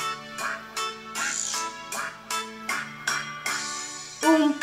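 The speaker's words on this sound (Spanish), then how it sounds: "Mamá pato dijo cuac, cuac, cuac, cuac" Quick, nasal duck quacks repeat in a rhythmic series of about ten, clear and close over steady background music in a children's song.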